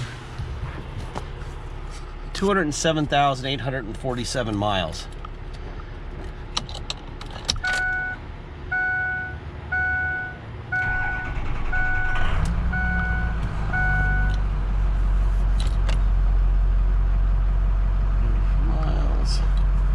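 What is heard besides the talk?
pickup truck engine starting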